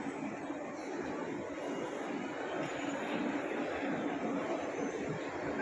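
A train at Roma Termini station in Rome gives off a continuous, even rumble of rail noise, fairly faint and at a distance, with no clear voices.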